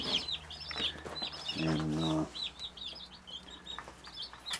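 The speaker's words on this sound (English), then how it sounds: "Went and picked up our 52 meat birds tonight." Young meat chickens, a batch of 52 newly brought home, cheep and peep in quick high chirps close by, with a short burst of louder clucking partway through and brief speech faintly mixed in.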